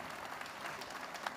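Audience at a Paris e-marketing conference applauds, a soft, even wash of clapping that holds at a moderate distance for a brief moment, with no voices over it.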